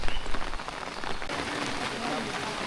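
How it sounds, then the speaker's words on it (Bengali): Heavy rain pours steadily in a village, a dense hiss of drops drumming on surfaces throughout, with no pauses. "মানে বর্ষাকালের মতো বৃষ্টি শুরু হয়"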